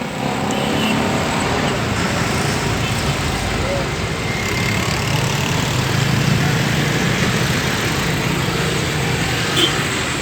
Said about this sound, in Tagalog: naririnig natin mga sasakyan